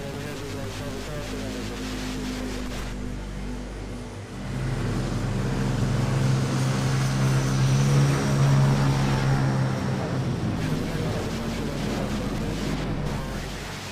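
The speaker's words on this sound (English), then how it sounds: "So we're gonna have another takeoff on runway 13." An airliner takes off from runway 13 at Manila Airport, its engines a steady, broad roar that grows louder and stronger midway and holds for several seconds.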